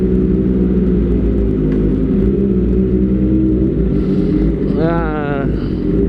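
Kawasaki ZX25R motorcycle fitted with an Austin Racing exhaust, a steady loud engine drone near a fuel station, with a brief rising rev sweep near the end.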